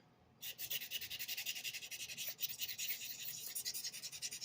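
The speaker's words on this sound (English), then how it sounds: "Trying to remove material from the whole thing, not just the apex when I sharpen." Knife blade, thin and convex-ground, stroked back and forth on a 400 grit abrasive stone: steady rhythmic scraping strokes, close and fairly loud, starting after a brief quiet moment and continuing evenly throughout.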